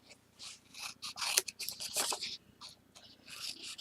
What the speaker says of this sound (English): let's go ahead and trim off our corners